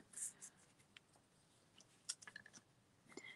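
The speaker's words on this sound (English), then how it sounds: "So I'm just using an HB pencil." HB pencil tracing a design onto paper, producing faint, soft scratchy strokes and light taps close by in a quiet room.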